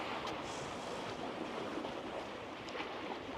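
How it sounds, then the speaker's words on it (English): Ocean waves crash on the shore on a sunny day near Lexington, Michigan. The surf comes through as a faint, continuous wash of distant noise with gentle swells and no voices. "listen to them waves. Crashing."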